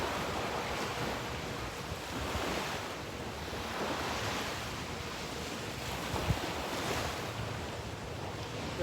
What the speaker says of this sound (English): The waves sure sound nice.